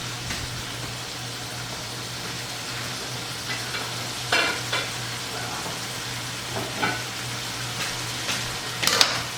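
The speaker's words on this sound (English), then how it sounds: "at this point I'm going to remove my onions" Onions lifted and scraped out of a hot frying pan for Puerto Rican steak and onions, a steady sizzle under a low hum with a few clinking spatula scrapes.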